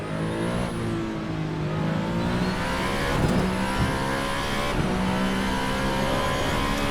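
An Alpine A424 race car in the Assetto Corsa racing game screams at high revs, with steady engine pitch, short dips on upshifts and lifts, and other cars audible nearby, with no talk over it.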